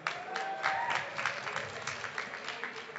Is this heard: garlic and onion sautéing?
no